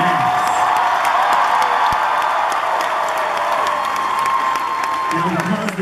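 A House of Blues concert crowd in Boston applauds and cheers the opening acts, loud sustained clapping mixed with whoops and shouts, and a voice over a microphone briefly cuts in near the end.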